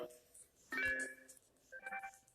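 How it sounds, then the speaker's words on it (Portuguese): A mobile phone's notification tone plays quietly, short melodic chimes in two bursts, previewed from the phone's sound settings. "você vai ter que reproduzir o som da notificação para poder confirmar"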